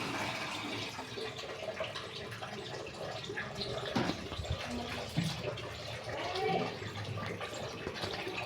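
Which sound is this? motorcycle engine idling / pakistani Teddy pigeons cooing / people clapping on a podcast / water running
water running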